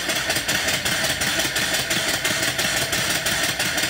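A small steam engine runs smoothly, giving a fast, even chuffing rhythm that repeats steadily and stays close and fairly loud, with no voices over it.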